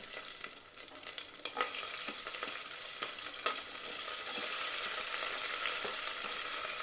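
Curry leaves and onions fry in a pan for upma, giving a steady sizzle that grows fuller as it goes, broken by the scrape and clack of a spoon stirring close by.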